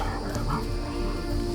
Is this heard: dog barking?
yes